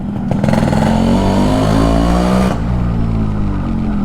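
Thirty-year-old restored Yamaha RX100 motorcycle running, a loud close two-stroke engine drone that rises in pitch, then drops and settles at about two and a half seconds; no talk.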